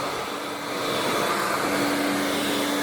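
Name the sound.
vacuum cleaner motor running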